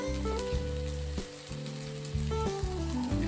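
Sabudana khichdi is stirred in a frying pan, with a steady, close oil sizzle and soft stirring movement running throughout, over a tonal background melody.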